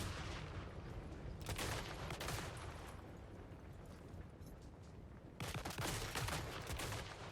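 Battle gunfire in the video game Total War Warhammer 3, with troops firing magazine-fed rifles in dense crackling volleys and rumbling bursts, a sustained din that swells again near the end, with no speech.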